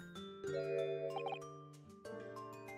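Bells ringing in The Great Ace Attorney video game: a few clear, overlapping chime tones that ring out cleanly and close, with no talk over them.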